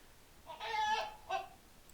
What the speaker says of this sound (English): now I'm chasing around this giant chicken